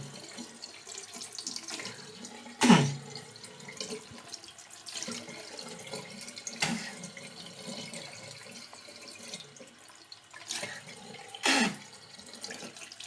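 A bathroom tap runs steadily while a child rinses her mouth at the sink: continuous soft water flow, broken by a few louder splashes and gurgles, close by and with no talking.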